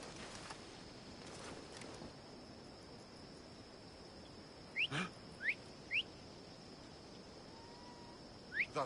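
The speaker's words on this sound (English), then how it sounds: "That whistling really starting to piss me off." Short rising whistles sound in a quick series of four or five faint chirps over a steady hiss and quiet ambience in Assassin's Creed Odyssey.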